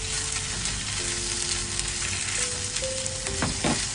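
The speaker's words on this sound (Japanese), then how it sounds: "ごま油を熱して、玉ねぎとカニカマを炒めるよ" Onions and crab sticks frying in hot sesame oil in a pan, a steady close sizzle throughout with a few brief clinks of utensil stirring near the end; no talking.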